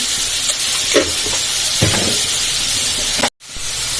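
Cucumber pieces with a spoon of turmeric and salt sizzle and fry in a pan, a steady loud hiss with occasional stirring scrapes and a brief break near the end.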